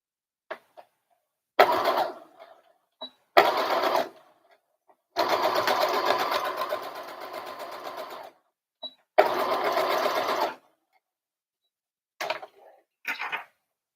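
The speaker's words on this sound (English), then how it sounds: "Let's just sew it." A sewing machine stitches a little girl's dress in several bursts, some brief and some lasting a few seconds, loud and close with pauses and small clicks between runs.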